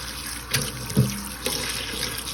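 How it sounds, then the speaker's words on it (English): Cold tap water runs steadily into a sink as turmeric-dyed fabric is rinsed and wrung, with a few soft splashes and sloshes breaking the constant flow. "you can run it under cold water and wring the fabric out"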